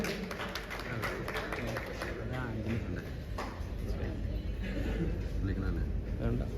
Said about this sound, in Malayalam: ഈ ഒരു നല്ലൊരു കൈയടി നമുക്ക് കൊടുക്കാം